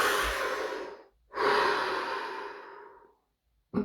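A slow, deep breath during a guided relaxation exercise: a long, airy inhale, a brief pause, then a longer, steady exhale, close and fairly soft, with a faint start of another breath at the end.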